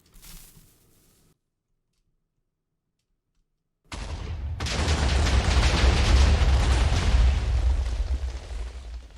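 A test explosion set alight in a video game: after a short faint sound and nearly three seconds of silence, a sudden loud blast erupts into a sustained rumbling roar that fills the rest of the clip.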